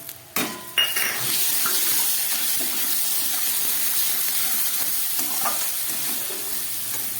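Potato, coconut and chickpeas sizzle steadily while frying in a pan, after a couple of sharp utensil clanks at the start.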